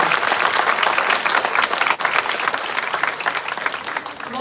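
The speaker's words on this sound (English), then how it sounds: "A big round of applause to all of them" An audience at the inaugural programme of a college law fest applauds steadily, a dense, sustained round of clapping from a sizeable crowd that carries on throughout without a break.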